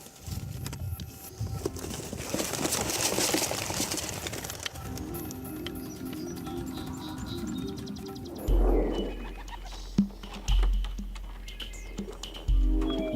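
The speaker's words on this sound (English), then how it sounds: "we open the box and let the pigeons go" Homing pigeons freed from a box in an open, treeless field: a flurry of wing flaps and scattered bird calls, then several low thumps, all close and without voices.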